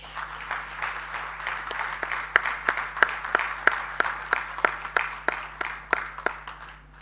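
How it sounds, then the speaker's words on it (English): Audience at a campus convocation applauding as the clapping thins out, leaving fewer, more distinct individual claps in an uneven rhythm over a low steady hum. "It seems the applause is slowly dying"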